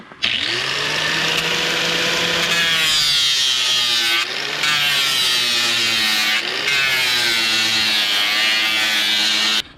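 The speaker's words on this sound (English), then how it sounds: "So I'm gonna go grab the grinder and get to sharpening." Loud, continuous whine of a grinder sharpening the steel knives of a forestry mulcher, held close with a couple of brief dips in pitch as the grinder bears down, no talking.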